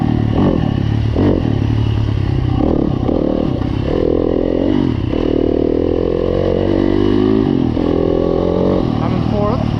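A Yamaha YZ250F dirt bike fitted with a flywheel weight runs loud and close on a woods ride, its engine rising and falling through heavy revs. A voice partly overlaps the constant engine roar.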